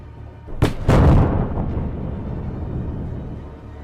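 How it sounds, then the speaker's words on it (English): Two HIMARS missile strikes hit a convoy in quick succession: sharp, loud blasts followed by a long, fading rumble. "HIMARS promptly delivered 2 strikes."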